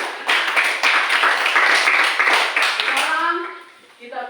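A classroom of students claps hands together in a rhythmic burst that lasts a few seconds and then stops, with a voice speaking as the clapping ends.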